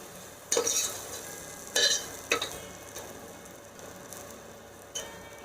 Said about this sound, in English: I'm going to stir it up a bit on low flame